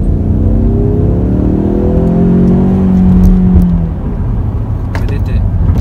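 A Ford Mustang 2.3 EcoBoost convertible in track mode downshifts and accelerates, its engine note rising steadily in pitch over a few seconds before easing off, heard from inside the car with some road noise.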